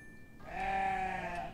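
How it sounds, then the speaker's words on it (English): A single drawn-out sheep bleat from the horror video game Hello Puppets Midnight Show sounds out clearly, a wavering nasal cry lasting about a second. "A sheep?"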